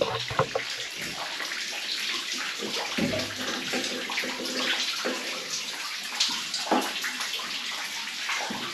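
Water pouring into a Lancashire coal mine shaft, a continuous splashing, gurgling rush with scattered louder splashes, fairly close and steady throughout.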